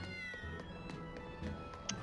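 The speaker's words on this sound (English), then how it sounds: "I saw the cat." A cat meowing in the video game Tales of Berseria, short meows repeating over a steady layer of game music and ambience, fairly faint and in the background.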